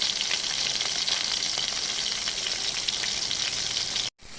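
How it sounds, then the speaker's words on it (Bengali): Hilsa fish fries in a pan of hot oil, a loud, even sizzling hiss that runs steadily before cutting off abruptly near the end, with no talking. "ইলিশ মাছ ভাজা করছি।"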